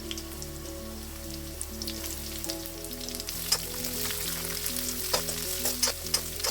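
Sliced onions fry in hot oil with curry leaves, giving a steady close sizzle with occasional crackling pops and light stirring, while soft background music plays underneath.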